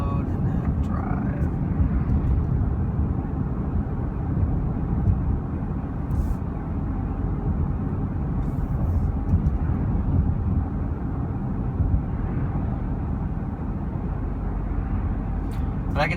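A 2016 Audi Q5 2.0T driving in sport mode, with a steady, dense engine and road drone heard from inside the cabin throughout.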